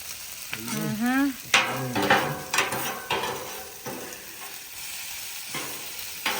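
Onions fry in a pan outdoors with soft sizzling and scraping stirs, a few utensil clinks and knocks against the pan, close by. A short rising squeak is heard near the start.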